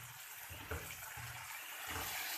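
Water is poured into a pan of frying masala for a Punjabi-style cauliflower and tomato dish, making a faint, steady splashing hiss that runs the whole time with a few soft bumps.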